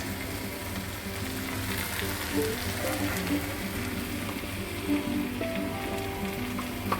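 Ginger sizzling in a small amount of hot oil while cooking ghugni (chana masala), a steady close frying crackle with brief hisses throughout and no talk.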